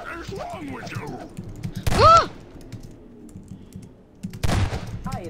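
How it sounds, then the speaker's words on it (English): Typing on a computer keyboard during a Garry's Mod Prop Hunt game, heard as short bursts of rapid clicking between stretches of voices talking. "Are you typing something?"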